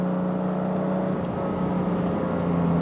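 A BMW F80 M3 Competition accelerates hard, its engine holding a steady droning note that stays loud and close, with no voices throughout.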